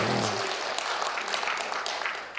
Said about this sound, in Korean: 박수 좀 세게 쳐봐요.